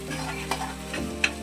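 Pawta beans are stirred and fried with onion in a pan, giving a soft, steady sizzle with a few brief scraping clicks from the spoon, close and alone.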